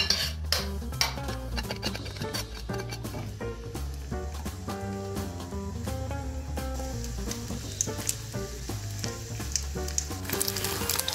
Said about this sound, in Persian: بریم کامل همش رو خالی کنیم تو روغن